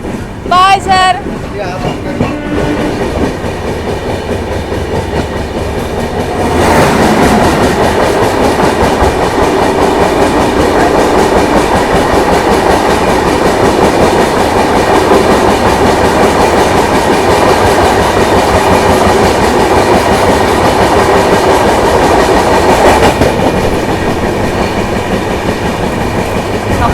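A Chennai-to-Kolkata train runs on with a steady rolling rumble and rhythmic clatter from the wheels, growing louder after a few seconds and then holding at a constant roar.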